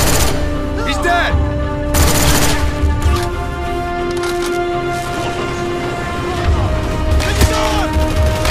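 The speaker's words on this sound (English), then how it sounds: "We're taking fire!" Gunfire in the video game Call of Duty Black Ops, sharp bursts and loud shots scattered across a busy battle scene, punctuating a steady background hum, with shouted voices in between.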